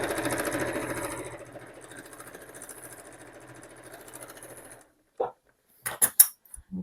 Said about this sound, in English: because I'm using foam, I've got it on a longer stitch. I'm going to sew straight across.